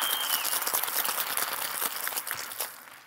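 Audience at a bartending demonstration clapping, a dense patter of applause from a modest crowd, steady throughout and tapering at the end, with no talk.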